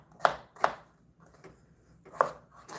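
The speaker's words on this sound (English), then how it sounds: "And then we're just chopping them this small" A knife chops food into small pieces on a board, four sharp separate strikes in uneven spacing with quiet pauses between them, close and clear with no voice over them.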